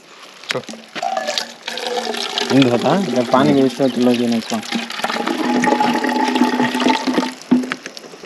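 Water runs and splashes steadily as raw chicken is washed before cooking bamboo chicken, while voices talk loudly over the flow.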